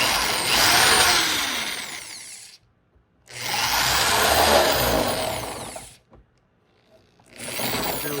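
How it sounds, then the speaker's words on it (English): A power drill enlarging holes in a metal part of an RC boat outboard motor, three loud whining bursts of drilling separated by short pauses. "I'm going to drill these holes out so that they're a lot larger and closer down to this lip here"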